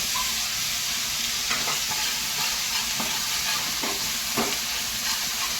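Morola and puti fish sour curry simmering in a pan, making a steady bright hiss and sizzle with a few soft stirring scrapes and taps, close up and with no talking.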